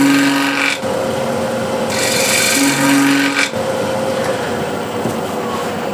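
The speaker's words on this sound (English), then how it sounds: "I have to sand these as well a little bit" A wooden hexagon plate is sanded by hand with a continuous close rasping scrape, its strokes surging and easing in a few long passes with brief pauses.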